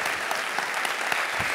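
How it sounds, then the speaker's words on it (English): Audience applause for a group of whistlers at a live spoken-word and performance event, a steady dense wash of many hands clapping continuously with no voices. "Have a big round of applause for all our whistlers."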